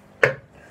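A single knife chop through liver and kidney on a board, one sharp close thud with a brief tail, alone in a quiet kitchen.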